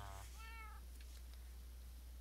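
A cat lets out a single clear meow close by, early and brief, over a steady low hum that runs through the quiet remainder.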